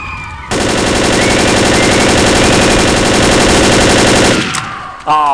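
A loud, continuous burst of rapid automatic gunfire in a video game lasts about four seconds and then cuts off abruptly.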